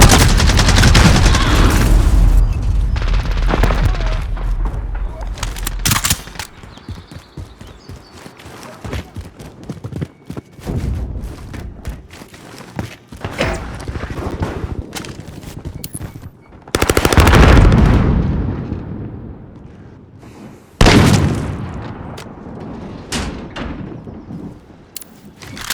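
Loud gunfire and explosions from the video game Call of Duty Modern Warfare, with bursts of rapid automatic fire and heavy booming blasts that come and go over half a minute.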